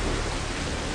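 Steady, dense rain hiss from the video game BattleBlock Theater fills the moment evenly, a constant wash of noise with no voices on top.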